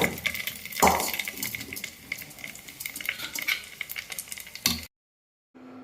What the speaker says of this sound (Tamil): இதை நல்லா கிளறி விட்டுக்கோங்க